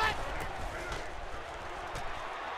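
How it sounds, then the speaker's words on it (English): Stadium crowd noise in the NCAA 13 college football video game at a Texas State Bobcats versus Houston Cougars game: a steady, broad roar of distant crowd that holds at a constant level throughout, with no distinct cheers standing out. "Crowd noise here."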